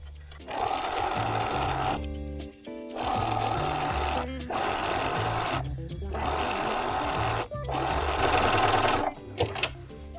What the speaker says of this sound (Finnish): Ja kun kuulostaisi siltä, että ompelukone neula olisi vähän tylsän oloinen, paksuttaa.